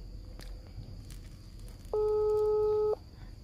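A repeating busy tone on a video call that fails to ring through, a steady electronic beep lasting about a second, sounding clearly over a quiet room with faint background noise.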